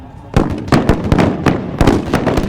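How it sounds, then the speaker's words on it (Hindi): Booming artillery cannon fire at an Indian Army demonstration: a rapid series of loud, sharp blasts, roughly eight reports in two and a half seconds, each with a rumbling tail, close and uninterrupted by talk. "The artillery fire is on"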